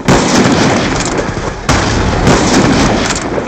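A Hellstorm missile explodes in Black Ops II, its loud, broad blast rumbling and crackling with a fresh burst of impact partway through, heard alone with no talk.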